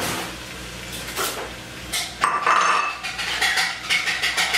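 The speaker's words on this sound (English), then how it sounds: "I'm just gonna stir this around until the flour taste cooks off of the flour" A utensil stirs flour in a pan for a plain white pepper gravy, producing steady scraping and clinking of metal against the pan, close and continuous, with busier rhythmic scraping toward the end.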